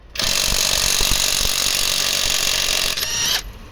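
A Revolt 350 cordless impact wrench loosens a tightly fastened car wheel bolt in a garage, a loud, close, continuous rattling hammer whir lasting about three seconds, changing pitch briefly near the end before stopping.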